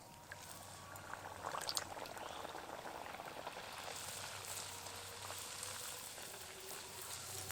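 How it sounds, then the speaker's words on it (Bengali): Duck egg kachori deep-frying in hot oil, a dense bubbling crackle that holds steady throughout, quiet and close, with no one speaking. "তেল গরম হয়ে গেছে, এবার কচুরি দিয়ে দেব।"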